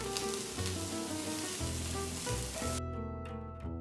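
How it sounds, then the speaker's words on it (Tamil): Close, steady sizzling of chopped onion and green chillies sautéing in oil in a pan, with a faint background tone running underneath. "பேனில் கொஞ்சம் எண்ணெயை ஊற்றி பொடியாக நறுக்குன ஒரு பெரிய வெங்காயம், பொடியாக நறுக்குன 2 பச்சை மிளகாய் போட்டு வதக்குங்க"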